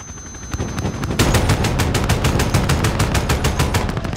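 An aircraft gun run strafing the ground in Modern Warfare 2019: a loud, rapid, evenly spaced stream of heavy cannon rounds, steady for several seconds after a quieter opening.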